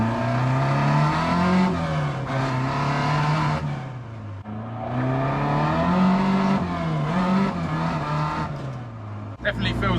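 A project car's engine drones and revs as it drives around the block, pitch rising and falling through gear changes, loud and close from inside the cabin.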